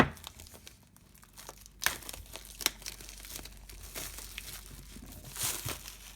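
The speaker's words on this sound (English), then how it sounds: "take out the plastic seal, just like that" Plastic seal being pulled off an iPad 6th generation box: close, quiet crinkling and tearing of thin plastic film with a few sharper snaps, continuous rustling throughout.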